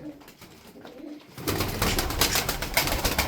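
Arabian tumbler pigeons with mirror tails, show birds, cooing softly at first, then a louder, denser stretch of cooing and fluttering that fills the second half.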